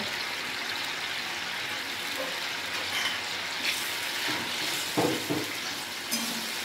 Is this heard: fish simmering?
yes